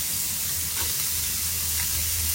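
Garlic, onion and dried red chillies fry in hot oil in a home kitchen pan, making a constant close hiss and crackle with faint stirring and no speech.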